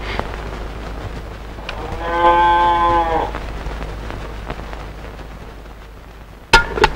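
A cow gives one clear, drawn-out moo of about a second near the middle, over a low steady background hum, and a brief sharp knock follows near the end.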